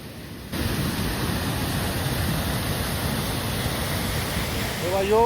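A small waterfall near Manali pours with a steady, full rushing roar, close and continuous from start to finish.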